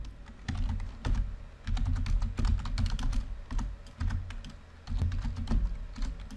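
Steady typing of code on a computer keyboard, close and clear, with rapid overlapping key clacks and heavier thumps in continuous bursts with brief gaps.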